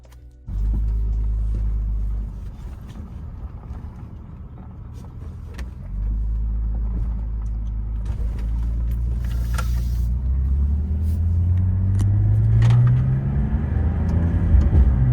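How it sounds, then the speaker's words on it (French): A BMW 330Ci E46 converted to an SMG gearbox, heard from inside as the engine revs climb and drop across several gear changes, a close, steady low rumble; no talking. "là je passe les vitesses avec le volant de la M3"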